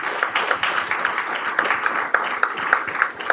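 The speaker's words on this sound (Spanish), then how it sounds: "Vamos a dar un fuerte aplauso" An academic conference audience applauds in a dense, steady round of clapping that lasts throughout.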